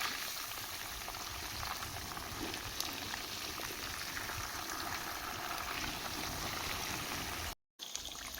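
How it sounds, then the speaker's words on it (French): Marinated fish, seasoned with black pepper and salt and brushed with oil, frying in a pan, giving a continuous even hiss and bubbling sizzle with a brief dropout near the end, no voices. "Je vais maintenant le faire frire."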